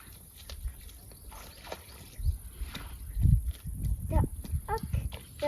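Wild horses without saddles move close by in the countryside near Bakuriani, their hooves giving soft irregular thuds and shuffles, with people speaking over the movement.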